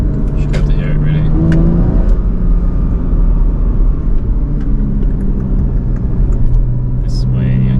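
A Porsche Cayman S in sport mode drones with a loud, steady engine rumble heard from inside the car as it drives on an English road, with continuous road and cabin noise throughout.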